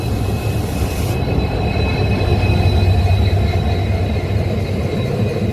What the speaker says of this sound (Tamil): இந்த ட்ரெயின் பாருங்கள், நம்மளுக்கு ராமேஸ்வரம் டு மதுரை வருது.